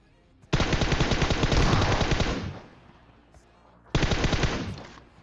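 An Uzi submachine gun in a shooting video game fires a long, rapid burst of close, loud shots, goes quiet for about a second, then fires a shorter second burst.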